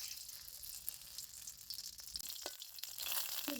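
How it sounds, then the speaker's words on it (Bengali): Dried red chillies fry in hot oil in a wok, a steady close sizzle and crackle with occasional sharper pops and stirring scrapes, and no voices. "শুকনা মরিচ ভাজে নেই।"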